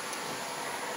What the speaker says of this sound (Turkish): bir yanda benim aşkım süpürge yapıyorum kızım